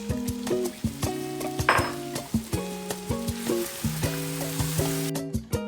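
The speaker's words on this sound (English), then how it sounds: "I'll be adding my blended crayfish and pepper. Then I'll allow this to cook for at least 3 minutes" Blended crayfish and pepper cook in a pot for Nigerian egusi soup, a close sizzle under repeated rhythmic stirring and scraping, with no talking.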